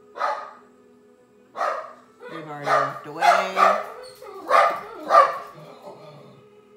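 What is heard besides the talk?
dog barking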